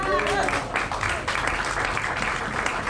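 Church congregation at a Spanish-language service applauding, a dense burst of clapping that starts under a voice and then fills the room, fairly loud and continuous.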